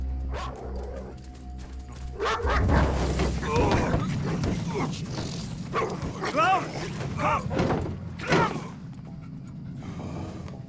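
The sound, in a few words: dog barking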